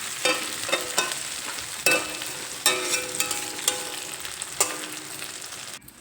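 Ground spice paste frying over a low gas flame for a fish curry with cauliflower and potatoes, a gentle steady sizzle broken by several sharp utensil scrapes and knocks against the pan.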